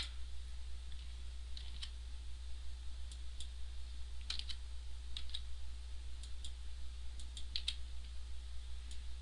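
Someone fills in a paperwork form on a computer keyboard, producing faint, scattered key clicks in short, irregular bursts. A steady low hum sits underneath and no one speaks.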